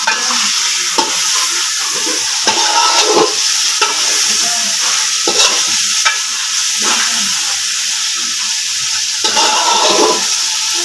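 Meat for biryani stirred and braised in a pot in a home kitchen: steady broadband sizzle throughout with repeated scraping strokes of a spoon against the pot, close and fairly loud, no talking.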